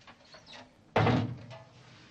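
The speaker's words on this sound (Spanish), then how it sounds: "Creí que era la puerta del baño" A door shuts with one sharp thud indoors, close and abrupt after a quiet stretch, its sound tailing off briefly.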